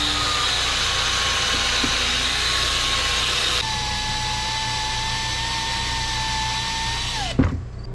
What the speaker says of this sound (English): So we just went over to the neighbor's house and used their drill press.